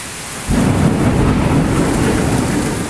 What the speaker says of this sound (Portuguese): Já começaram os relâmpagos e os trovões